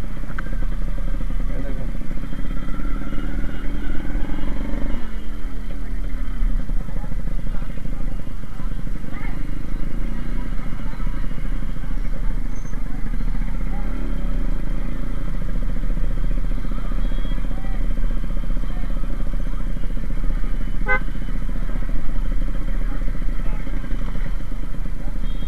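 A Yamaha RX 100 motorcycle engine runs throughout, a steady, loud mid-pitched drone with a constant low rumble and some clatter, close by, with no talking.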